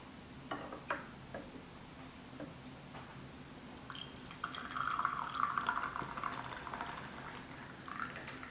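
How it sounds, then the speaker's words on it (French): Tea poured from a gong fu cha brewing vessel into a fairness pitcher, a soft trickling splash in a quiet room that swells for several seconds, then tapers to the last drips. "on s'assure de verser jusqu'à la dernière goutte dans le pichet d'équité"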